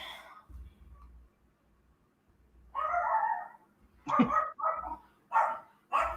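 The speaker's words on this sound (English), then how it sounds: "that's my crazy dog" A dog barks in a home, giving a few close, loud barks in quick bursts toward the end after quieter moments, with some faint background sounds.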